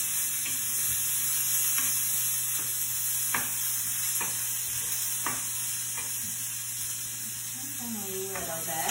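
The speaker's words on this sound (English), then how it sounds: "I'm gonna mix this around." Onions, coconut milk and chicken broth are stirred together in a skillet, with a steady sizzle and hiss under repeated scraping strokes of the spoon, close by and without speech.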